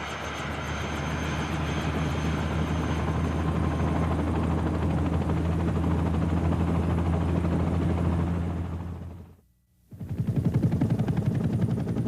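Military helicopter flying over Vietnam during a medical evacuation, a loud continuous engine and rotor roar with steady low rumble that briefly cuts out near the end before returning at full strength.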